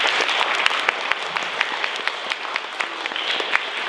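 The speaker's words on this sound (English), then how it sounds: "Let's give fifth grade one more hand clap" Brief round of hand clapping from a school audience for the fifth grade class, moderately loud and even, with a few sharper individual claps standing out near the front.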